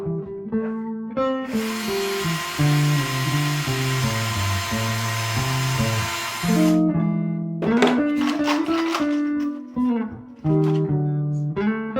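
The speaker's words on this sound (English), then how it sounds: "Let me drill a hole first, because we're going to come over that side somewhere." Power drill boring a hole on a sailboat, a steady high whine lasting several seconds, heard amid loud music.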